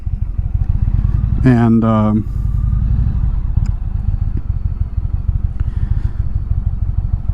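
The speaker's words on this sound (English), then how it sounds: "So I'm having to learn the clutch on this bike" A motorcycle engine chugs with a loud, steady low thump while the rider works the clutch, a brief rev rising mid-ride, and a voice speaking briefly over the engine.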